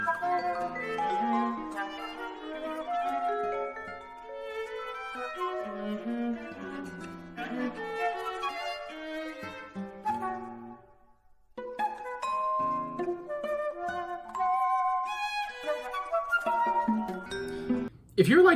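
Integrated serialism plays as atonal music: scattered pitched notes leap across the range in irregular, disjointed bursts, moderately quiet with uneven dynamics and a brief pause near the middle.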